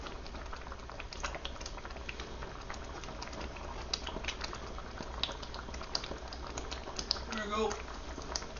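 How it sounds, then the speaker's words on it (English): Tomatoes spitting and sizzling in a hot pan, a steady dense crackle and pop running throughout at close range. "I'm going to put the tomatoes in, and yep, it's spitting at me already"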